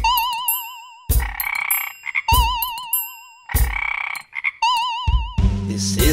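A cartoonish frog croaks in repeated bursts, each a deep ribbit followed by warbling tones, loud and close with short pauses between.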